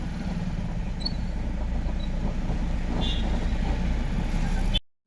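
Bangalore city road traffic in a close jam: a continuous low rumble of car, truck and bus engines, fairly loud and steady, with faint hisses and horns above, cutting off abruptly near the end.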